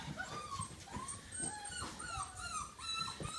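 Several six-week-old puppies whimper and yip close by in a continuous string of high, wavering whines and short squeaks, with no one speaking.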